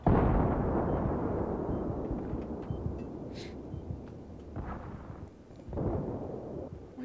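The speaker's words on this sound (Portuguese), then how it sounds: "Uma explosão bombástica." A heavy explosion in Battlefield 3, played on PS3 on a dark map, opens with a loud, deep booming rumble that slowly decays over several seconds, then a second rumbling swell rises near the end.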